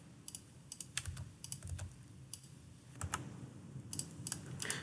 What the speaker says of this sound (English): So I'm just going to type this up.